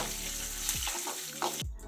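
Poppy seeds, cashews, garlic and ginger fry in hot oil in a pan, giving a steady, close sizzle and crackle with a few stirring scrapes and no talking.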